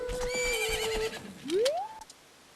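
Epona the horse whinnies in the Zelda: Ocarina of Time game, a bright, fairly close neigh that ends in a single rising electronic tone, with no talking.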